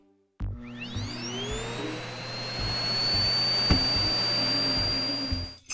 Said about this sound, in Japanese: 掃除機をかけていると